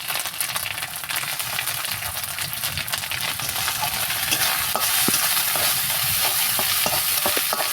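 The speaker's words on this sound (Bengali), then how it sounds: "এটা আমি একটু ভালো করে কষিয়ে নেব" Lotiya fish frying with ground green and ripe chilies and ginger, a dense, steady sizzle with scraping stirring taps, close up and continuous, with no voices.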